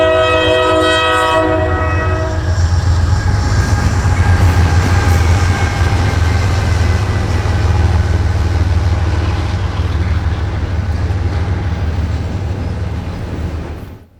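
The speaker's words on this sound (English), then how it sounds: "This was NS 212, originating in Atlanta, Georgia, making its final approach toward Croxton Yard" Norfolk Southern freight train NS 212, led by an ES44AC locomotive on its approach to Croxton Yard, blasts a loud, close horn at the start, then rumbles past steadily and heavily.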